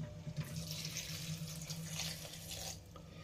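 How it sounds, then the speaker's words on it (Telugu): A glass of water is poured into a cooking pot of leafy-greens and brinjal curry, giving a steady, close splashing pour that runs for about three seconds with no talking. "ఒక గ్లాస్ వాటర్ పోసుకుందాం."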